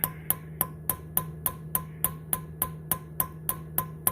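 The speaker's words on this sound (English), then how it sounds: "I want to take my hammer" A hammer strikes a broken bolt heated cherry red in about fifteen sharp, evenly spaced metallic blows, each ringing briefly before the next. The strikes are close and steady, with no talking over them.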